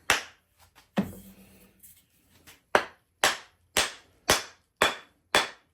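A mallet strikes a baby Kentucky axe head, seating it onto an osage orange handle: a scuffing rustle, then a run of six sharp, evenly spaced wooden knocks, each decaying quickly, close and loud.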